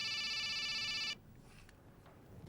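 A cellphone rings with a bright, loud electronic tone for about a second, then cuts off abruptly, leaving a quiet room.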